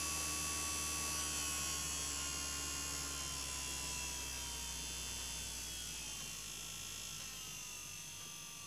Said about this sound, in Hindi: सो गियर मोटर टेस्ट कर रहा है अभी